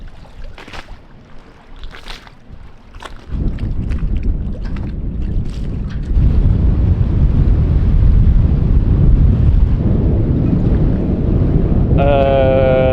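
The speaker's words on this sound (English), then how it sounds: "I'm gonna go sailing in this. It's gusting 25 knots." Strong wind gusting to 25 knots buffets the microphone on a catamaran in heavy roaring gusts that grow louder midway, with brief voices and a tonal sound near the end.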